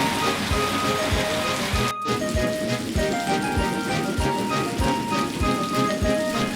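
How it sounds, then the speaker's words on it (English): Steady rain patters on surfaces with distinct drips falling in an irregular rhythm, moderately loud and continuous, with a brief break partway through. "James thought the entire time of the constant rain"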